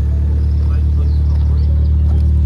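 Vauxhall Corsa VXR with forged engine internals idling steadily up close, a deep constant engine rumble under quiet talk nearby.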